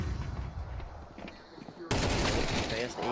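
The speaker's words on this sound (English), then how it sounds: "the AK is gonna be put to work" AK rifle fire in Counter-Strike 2 during a BLAST Open London Grand Final esports match, a sudden loud burst of rapid shots under excited commentary.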